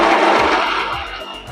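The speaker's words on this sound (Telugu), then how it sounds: "మిక్సీ పట్టుకోవాలి." A mixer grinder whirs loudly and steadily as it grinds green chillies, ginger, curry leaves and cumin. The harsh motor noise fills the short stretch and eases slightly toward the end.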